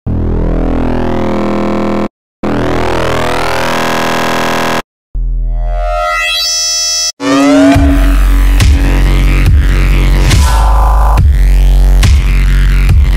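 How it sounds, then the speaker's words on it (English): Synthesized wavetable tones from the Serum synth: three sustained, bright, harmonically rich notes separated by short gaps, then a swept digital tone, then a loud, dense repeating pattern with regular pulses, all loud and with no voices. "The wavetable that we will be making in the end will sound like this."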